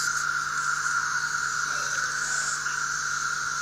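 Periodical 17-year cicadas heard close up, a dense, steady high-pitched buzzing drone with a second whining band above it, continuous and moderately loud throughout, with no voices.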